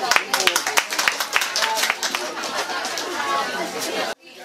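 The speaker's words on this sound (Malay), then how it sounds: "Tepukan." Audience applause at an Islamic charity program in an Orang Asli village, Kampung Pos Piah, Sungai Siput: dense clapping mixed with crowd chatter, fairly close, cutting off sharply at the end.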